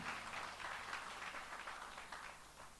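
A Sunday church congregation claps together, a faint, distant, steady patter of applause with soft rhythmic pulses that tapers slightly by the end.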